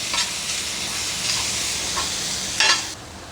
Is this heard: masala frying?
yes